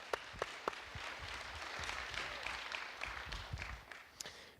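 Applause from an audience at the TechChill Baltics tech conference, a faint, distant wash of many hands clapping in a large room, with a few sharper individual claps standing out.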